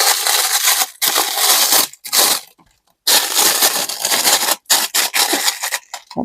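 Crinkly wrapping foil, cake release paper, being handled and crumpled up close: loud rustling, crackling bursts with brief pauses between them, no voices.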